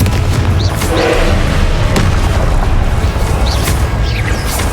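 Booming spell blasts and crashing impacts from Hogwarts Legacy combat on max difficulty, a loud, dense barrage with several sharp bursts over rumbling game noise.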